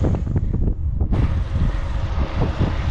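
Steady wind buffets the microphone during a bicycle ride in Eastern Samar, Philippines, a continuous low rumble with rushing noise throughout, no voices.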